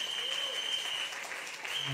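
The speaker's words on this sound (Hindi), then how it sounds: "अगर आप विश्वास करते तो जोर से तालियां बजाइए।" A church congregation claps loudly, a dense continuous burst of many hands sounding together for a couple of seconds at moderate distance.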